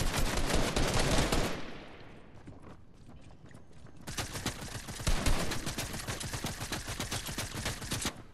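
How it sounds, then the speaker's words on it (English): Rapid bursts of SMG gunfire in the Fortnite video game, a loud sustained spray, a short lull with scattered shots, then another long dense volley of fast automatic fire. "He stood still and my SMG's missed every shot."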